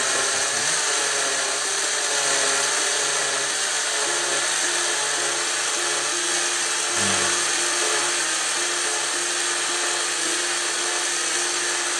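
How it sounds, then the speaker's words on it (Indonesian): An electric blender whirs steadily throughout, grinding spice paste for Indonesian sambal goreng, a continuous loud motor hum with a brief dip and low thump near the middle. "Kita blender sampai halus"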